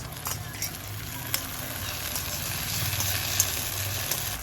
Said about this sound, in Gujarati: એમાં સોસ નાખી દઈએ, tomato sauce, red chilli, green chilli અને સોયા સોસ